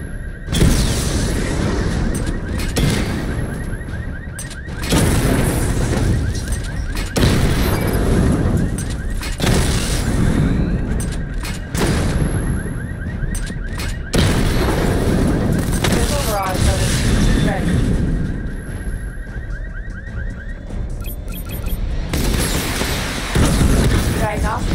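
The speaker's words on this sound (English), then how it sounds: "Charge the missile barrage to level 2 to destroy up to 4 targets at once." Missile barrage explosions from the Batman Arkham Knight video game boom repeatedly in loud, rapid bursts over a constant engine-like drone, with a voice speaking over the blasts.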